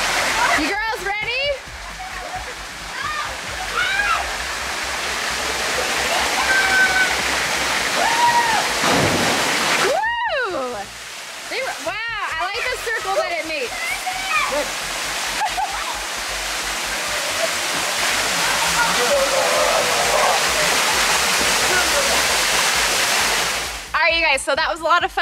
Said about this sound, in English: We have the waterfall turned off. We're gonna turn on right now. It's gonna be a little noisy, but John is going to jump off the waterfall